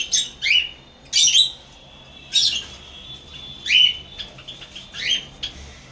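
Caged cockatiels, lovebirds and java sparrows give short, bright chirps and squawks in repeated bursts, fairly close, over a faint background hum.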